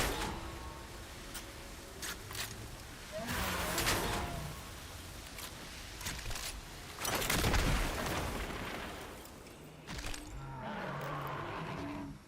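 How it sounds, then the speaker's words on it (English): Explosions boom in the Destiny video game, several heavy blasts spaced a few seconds apart with rumbling tails, the largest around the middle, over quieter game noise. "Three explosions"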